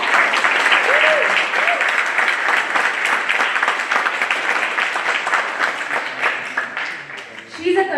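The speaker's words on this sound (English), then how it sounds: "Can we please have a round of applause for her?" At a Carnatic music arangetram, an audience applauds a vocalist in a steady, full round of clapping lasting several seconds and fading a little toward the end, with a voice heard briefly over it.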